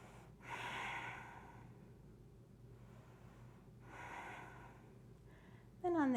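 Slow breaths held during a yoga pose, two long audible exhales a few seconds apart, soft and close, against a quiet low hum, with a voice starting at the very end.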